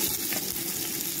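Chopped onions hit hot cooking oil in a pan for chicken matar pulao, giving a loud, steady, close hiss and sizzle with no talk over it.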